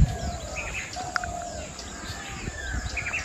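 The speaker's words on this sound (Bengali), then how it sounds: "আর এখানে কত পাখি ডাকছে শুধু দেখো।" Several birds calling along a village path near mangroves, with scattered chirps and short whistled notes at moderate distance over a soft outdoor background.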